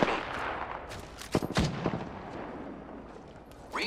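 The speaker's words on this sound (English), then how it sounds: "The enemies are shooting at me." Gunfire in the video game Apex Legends: bursts of shots and impacts with a few sharp cracks and a louder cluster in the middle, set in game ambience and heard without talk.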